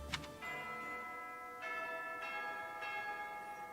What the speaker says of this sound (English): That bell means we have done all we can do in terms of interactions.